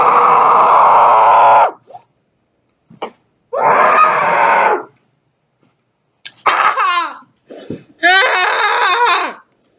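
A person screams into a pillow after eating ghost pepper salsa, giving several loud muffled bursts separated by silences, with strained, coughing and groaning cries toward the end.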